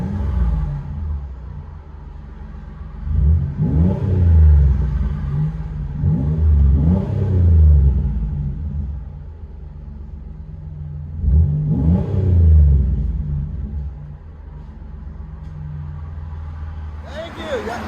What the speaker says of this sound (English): Buick LuCerne, baby. Again? Muffler delete. Let you guys hear on the inside.